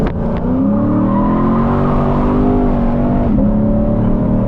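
Lexus RCF drifting around a corner, its engine held at a loud sustained roar with shifting pitch and tire noise, recorded close from inside the car.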